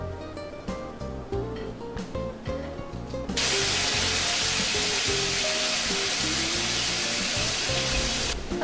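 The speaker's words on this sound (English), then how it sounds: "we're gonna put some coconut oil on this pan since it's already heat up" Coconut oil hits an already hot pan and bursts into a loud, steady sizzling hiss that holds for several seconds over faint musical tones.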